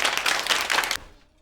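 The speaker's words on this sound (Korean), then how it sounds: "박수!" Applause from a classroom of pupils greeting a new boy in Busan, a short burst of dense clapping that stops abruptly and fades into quiet.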